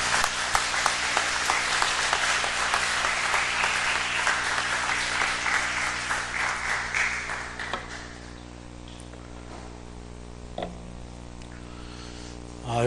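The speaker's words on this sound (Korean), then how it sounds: "크게 박수로 환영하겠습니다" An audience at a church event claps loudly in welcome for several seconds before the applause fades out, leaving a faint room hum and one stray sound.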